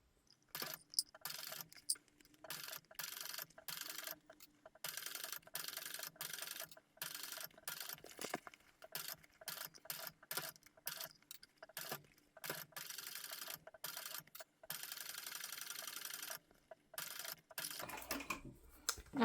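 Sewing machine stitching the seam of a handbag, its needle tapping in short irregular bursts separated by brief pauses, fairly close and quiet, with no talking.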